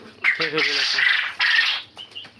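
Quail, about 42 days old, kept for sale on a farm, calling in short squawking chirps, with several overlapping harsh bursts close by and a voice speaking among them.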